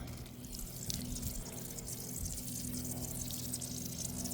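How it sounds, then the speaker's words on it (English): Water sprays and splashes steadily as motorcycle tires are rinsed off after tire cleaner, a faint continuous hiss with slight fluctuations and no talking. "just rinse off"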